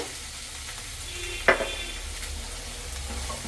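Snake gourd and tomato sautéing with salt in a pan for a Kerala curry, a soft continuous sizzle with one sharp utensil clink, no talk.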